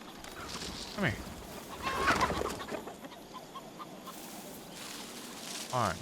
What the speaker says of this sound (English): Hearing chickens.